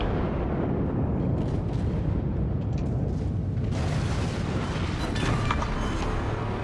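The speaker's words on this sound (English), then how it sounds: "Battleship destroyed" A battleship is destroyed by gunfire in World of Warships, heard as a continuous deep rumble of explosions with sharper crackling bursts breaking through partway in, loud and without any talking.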